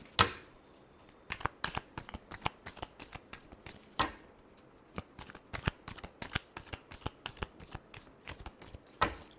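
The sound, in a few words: tarot cards being shuffled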